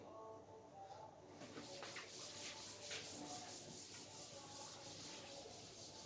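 An eraser or duster rubbing a classroom board during a physics lecture, giving a steady scratchy scrubbing that runs through the whole stretch at close range.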